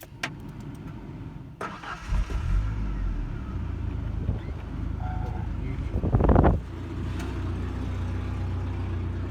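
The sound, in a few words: 1994 Ford Ranger engine starting up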